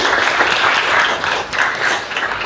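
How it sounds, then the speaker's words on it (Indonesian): Audience in a classroom presentation session giving a burst of dense applause, loud and continuous with slight swells, and no talk over it. "kasih tepuk tangan dulu"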